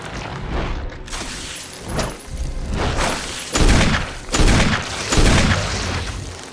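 Repeated heavy gunshots fired at a plant monster in Resident Evil, several loud booming blasts spaced about a second apart over a constant rumbling background.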